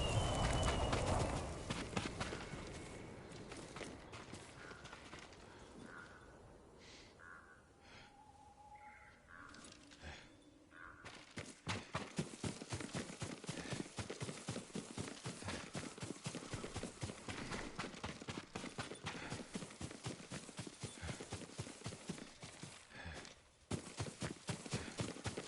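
Steady clip-clop of horse hooves trotting in a video game, a continuous rapid rhythm that picks up after a quieter start, with faint birds in the background.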